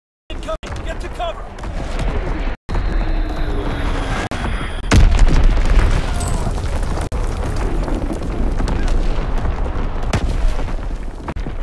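Heavy artillery barrages and explosions thunder in a Call of Duty: WWII battle, a dense continuous roar punctuated by booming impacts and gunfire, with shouted in-game voice callouts over the din.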